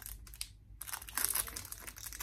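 A small plastic jewelry pack of earrings crinkled and torn open by hand, crisp rustling and crackling bursts with a short silent pause midway, close and fairly loud.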